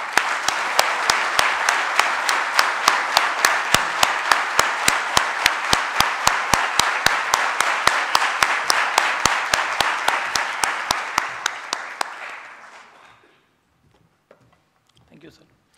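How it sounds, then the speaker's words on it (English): A crowd applauds steadily for about twelve seconds, rhythmic claps standing out among the general clapping, before it fades to near silence. "Can we have the biggest round of applause, please?"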